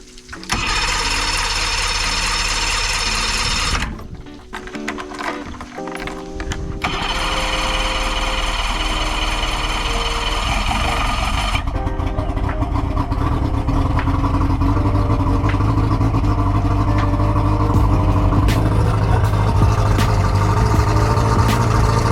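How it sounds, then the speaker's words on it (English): A 1993 Yamaha 115 two-stroke outboard cranks and catches, stumbling briefly before settling into a loud, continuous buzzing idle with a raspy, uneven two-stroke rattle, close by and steady for the rest. "So here we are, gonna start the engine."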